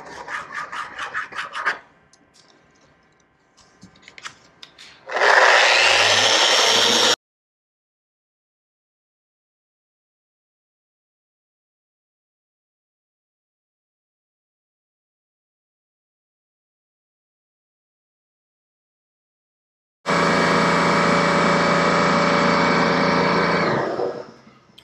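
Zebra wood plinths sanded with 240 grit: a few scattered knocks and rubs, then a loud rasping power-sander burst of about two seconds, a long silence, and a second sustained sanding pass of similar loudness.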